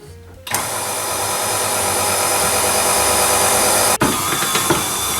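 A stand mixer kneads bread dough at speed 1, a steady loud motor whir with a rhythmic churning texture running alone and close, briefly dipping near the end before resuming.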